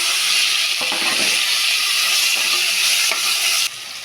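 Tomatoes and onions with ginger, garlic and curry leaves sautéing in a pan, a loud continuous sizzling hiss close by with faint stirring scrapes throughout, dropping slightly near the end, no voices.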